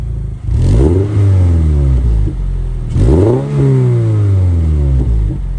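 A 2022 Subaru BRZ Limited fitted with an aftermarket MXP SP exhaust and no headers revs twice, each blip climbing sharply then falling back to a throaty idle, loud and close.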